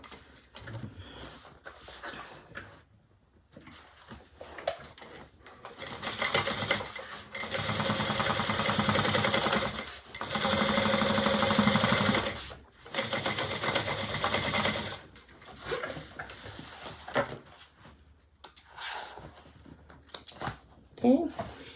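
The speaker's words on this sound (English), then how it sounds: "I'm going to do another row of stitches" A sewing machine stitches a row on a bag in several fast mechanical bursts of whirring, separated by short pauses, with quieter handling sounds before and after and a voice talking at times.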